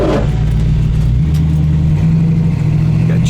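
A 1969 Camaro with a small block V8 cruising on the road, its engine droning steadily and loudly from inside the car with a low rumbling tone and slight rises in pitch.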